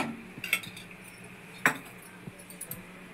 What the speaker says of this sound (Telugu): స్పూన్ల ఆయిల్ వేస్తాను.